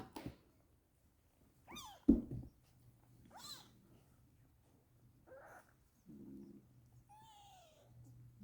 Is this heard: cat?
yes